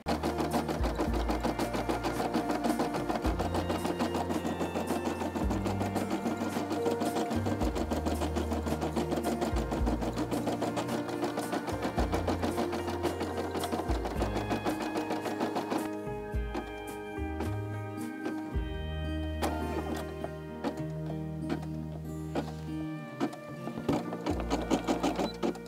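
A Brother SE600 embroidery machine stitches a SeaBees design, a steady, loud mechanical whirring with a rapid needle rhythm and pitch shifts as stitch patterns change, running continuously with no talk.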